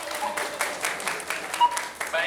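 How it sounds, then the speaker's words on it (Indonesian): A group claps together at an informal game session during a company trip to Dieng and Jogja, steady scattered applause at moderate level with some cheering voices mixed in. "boleh tepuk tangan"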